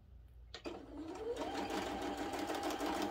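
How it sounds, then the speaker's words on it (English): A sewing machine stitches a quilt block seam along a drawn line, starting with a click and then running as a fast steady whirring hum, close and alone. "all I have to do is sew on the line that I just drew, the second line"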